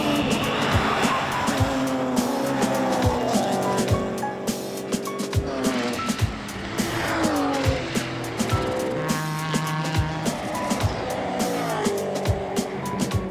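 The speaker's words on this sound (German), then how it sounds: "Holger fährt seine erste Runde und bei der zweiten Runde fällt er vorm Flugplatz" A race car runs a lap of the Nürburgring Nordschleife, its engine revving up and down through gear changes with rising and falling pitch, tires squealing through corners, loud and close throughout.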